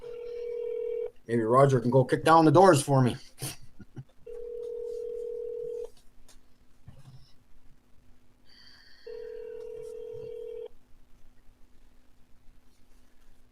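A telephone places a call: a steady dial tone, a quick run of dialing tones, then repeated ringback tones with gaps between them, while someone talks over part of it.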